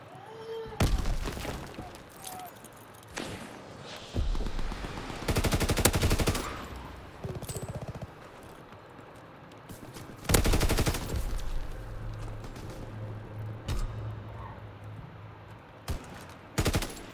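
Shotgun fire in the World War II shooter Call of Duty: WWII: loud, sharp blasts scattered irregularly through the scene, mixed with other battle noise and rumble.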